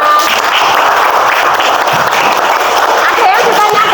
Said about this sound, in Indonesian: Oke, tepuk tangan dulu untuk kelompok 5.